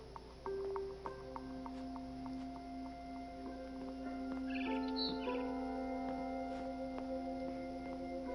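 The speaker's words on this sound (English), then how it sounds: "Then I heard chirping outside my window." Barn swallow chirping outside a window in the video game What Remains of Edith Finch, a few faint, brief chirps over a quiet ambient game soundscape with a steady low hum.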